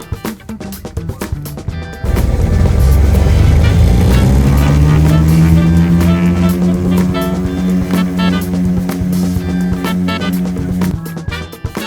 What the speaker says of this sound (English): And with a gentle roar, we lift off into the rainy skies of southern New Zealand.